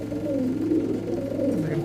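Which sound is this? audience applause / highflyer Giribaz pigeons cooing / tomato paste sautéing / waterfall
highflyer Giribaz pigeons cooing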